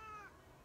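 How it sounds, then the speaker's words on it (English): A cat meows outdoors in a front yard in Monterey County in winter, a single short meow that fades out, fairly faint against quiet background noise. "He says, meow, meow, meow, meow, meow."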